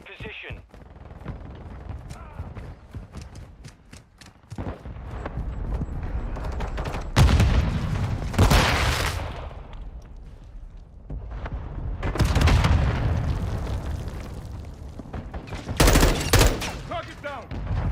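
Mortar strike explosions and heavy gunfire in Call of Duty: Modern Warfare II, loud booming blasts bursting repeatedly over continuous rattling shots, with radio-style voices now and then.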